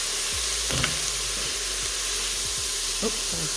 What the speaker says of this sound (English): So this is starting to saute.